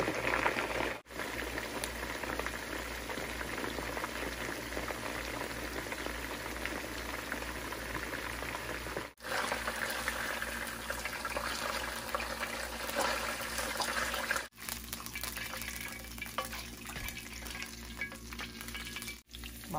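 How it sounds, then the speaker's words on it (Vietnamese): A salmon head fries in hot oil over high heat, giving a steady, dense sizzle and crackle that runs close and loud throughout, with a few brief dips and no talking. "Để lửa cao mình chiên khoảng chừng 5 phút thôi."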